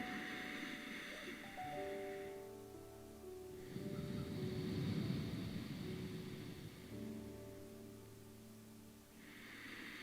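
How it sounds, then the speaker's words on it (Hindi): Ujjayi yoga breathing through a constricted throat produces slow, close-miked airy rasps that alternate between a hissy inhale and a deeper, rougher exhale, over soft background music. "आप मेरी आवाज को सुन सकते हैं सांस लेते हुए।"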